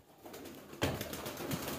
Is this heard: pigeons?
yes